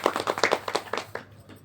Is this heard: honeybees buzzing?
no